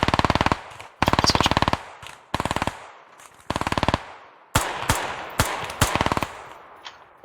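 Rapid automatic gunfire in the video game Squad, loud close bursts repeating in bursts of several rounds, then a string of sharper single shots, with no talk.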